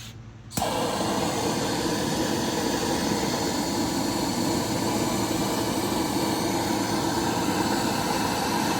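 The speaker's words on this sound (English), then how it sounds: "And you get a torch. So you get out of the cabinet and just heat it up." A torch lights with a sudden whoosh and then holds a loud, steady roaring hiss while heating kitchen faucet parts beneath a sink, close and constant.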